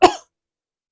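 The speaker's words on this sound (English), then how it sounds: "Do you know how you fix it? You cough." A single short, sharp human cough, close and fairly loud, followed by silence.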